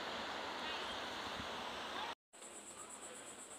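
Ocean surf rolling in at Myrtle Beach, a steady broadband wash of breaking waves heard up close, briefly cutting out before resuming with wind-blown roar.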